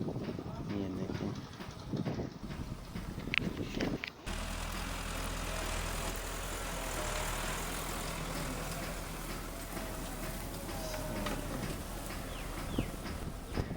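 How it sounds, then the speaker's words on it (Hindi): A Massey Ferguson 375 tractor pulling a cultivator through a field, its engine giving a steady loud low drone with wind buffeting the microphone, after a brief rougher opening section. "पावरफुल ट्रैक्टर है, काफ़ी पावरफुल ट्रैक्टर है ये।"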